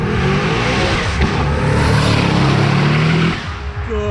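Cadillac CTS-V at a car meet in Luxembourg, its engine revving hard and loud as it blasts past close by, a sustained roaring growl that drops off sharply near the end as it pulls away.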